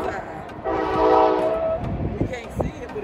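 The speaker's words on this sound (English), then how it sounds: "there's a train." Train passing out of sight on the far side near the NC Transportation Museum, a horn blast swelling and fading over rumbling wheels, heard from a distance with outdoor background noise.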